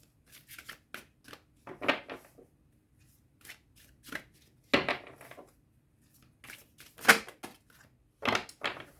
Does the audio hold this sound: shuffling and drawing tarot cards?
yes